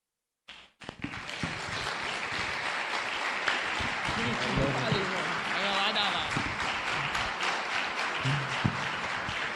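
A crowd bursts into sustained applause and cheering that continues steadily throughout, with voices mixed into the clapping.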